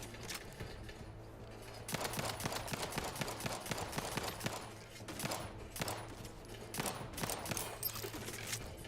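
Gunfire in the video game The Outer Worlds 2 comes as rapid bursts of shots, mostly distant and quiet, with several clustered volleys and short pauses between them, no talking.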